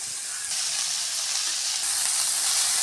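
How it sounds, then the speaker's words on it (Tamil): Broad beans (avarakkai) and onions sauté in a hot pan with a bright, steady sizzle and hiss that grows a little louder partway through, close and continuous with no voices. "அவரைக்காயை போட்டுட்டு நல்லா வெங்காயம் எல்லாமே நல்லா மிக்ஸ் ஆகிற மாதிரி நல்லா வதக்கி விடுங்க"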